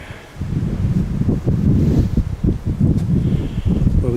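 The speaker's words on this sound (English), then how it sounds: "we keep getting gusts of wind coming across the fields because it is open" Gusts of wind sweeping across open fields buffet the microphone in loud, low rumbling surges that rise and fall, with no voices present.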